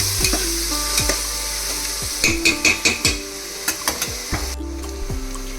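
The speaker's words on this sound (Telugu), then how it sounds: "ఈ అల్లం వెల్లుల్లిపాయ పేస్ట్ పచ్చి వాసన పోయే వరకు ఫ్రై చేసుకోవాలి." Ginger garlic paste fries in a pan with a steady loud sizzle, while a spoon repeatedly scrapes and taps against the metal in a quick irregular rhythm, close up with no talking.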